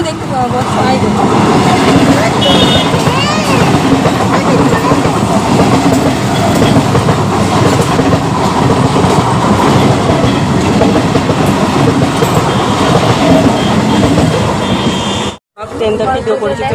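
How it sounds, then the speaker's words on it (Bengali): A train rumbles past up close, loud and continuous, wheels clattering rhythmically over the rails, with a sudden brief drop-out near the end. "ট্রেন এসছে"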